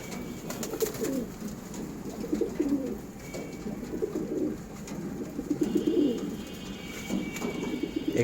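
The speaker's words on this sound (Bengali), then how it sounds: "আলহামদুলিল্লাহ কবুতরগুলো খাচ্ছে" Pigeons, a mix of males, females, young birds and breeding stock, coo repeatedly in soft low rolling phrases while feeding at dusk under a lamp, several calls overlapping nearby with faint background hum.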